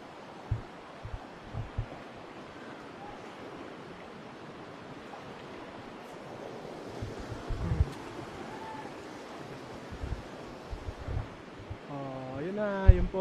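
Bulawan Falls waterfall in Aurora, heard as a steady broad rushing roar of falling water with wind buffeting the microphone, while people talk and footsteps pass.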